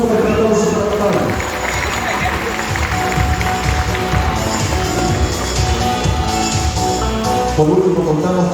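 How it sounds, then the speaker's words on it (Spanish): Audience applause for a performer named Coral at a Loro Parque show, a dense, steady wash of clapping and crowd noise filling the whole stretch, loud and continuous with voices mixed in. "Un fuerte aplauso para Coral"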